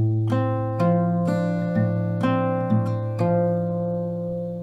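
Acoustic guitar slowly picking a song's pattern, single notes plucked one after another at a steady unhurried pace, each ringing over the last, close and clear with no voice.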